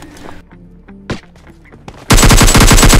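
Gunfire from the mobile game PUBG Lite comes after a short stretch of quieter in-game sounds and a few soft tones, then erupts in a loud, sustained burst of rapid automatic shots.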